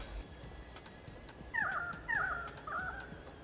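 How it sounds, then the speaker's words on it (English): A bird gives three clear, wavering calls in the Australian wilderness just before a storm, each call short and distinct, sounding fairly near over a quiet, faintly rustling background. "right before the storm, we even got a little bird song."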